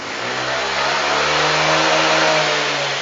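A bored-up Honda Vario 180cc scooter engine revs at full throttle, a loud, steady high-pitched roar held close throughout with a slight climb in pitch.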